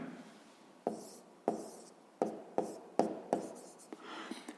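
A pen writes a math answer on paper during a fifth-grade volume problem, heard as a series of soft, close taps and brief scratches in an irregular rhythm.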